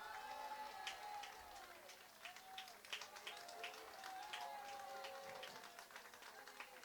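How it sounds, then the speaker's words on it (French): Audience applauding during a PPF Tour 2024 National Top 1000 protocol ceremony at Blangy-sur-Bresle, a steady spread of many hands clapping at moderate distance with a few sharper claps standing out, continuous throughout. "Alors les applaudit très fort, s'il vous plaît."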